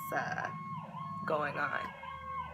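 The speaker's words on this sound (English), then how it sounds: "So excuse the sirens, I apologize." A wailing fire engine siren from a fire station across the street rises and falls through the whole stretch, fairly close, with a person speaking over it.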